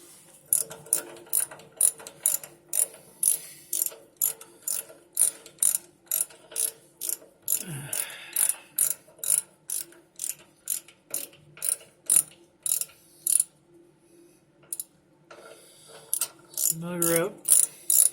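A hand ratchet tightens a fitting on the power steering of a 1979 Ford F150, its clicking strokes repeated in close, steady bursts with short pauses between them and a couple of metallic clunks.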